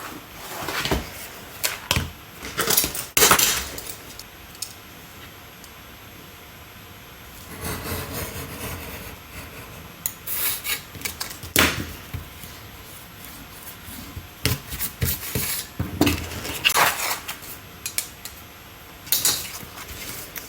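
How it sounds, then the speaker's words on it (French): A craft knife slices along a ruled line on paper or card for a handmade album, giving several short scraping strokes at close range, separated by quieter pauses. "On va venir couper au cutter ce trait."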